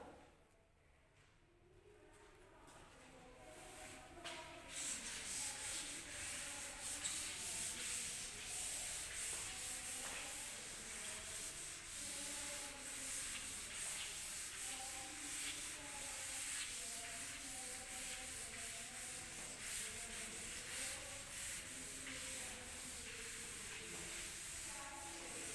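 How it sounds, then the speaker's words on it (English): Steady scratchy rubbing of writing being wiped off a classroom board, soft and continuous for the whole stretch, with a faint hiss and no talking. "Let me rub it and write down the remaining part of this answer."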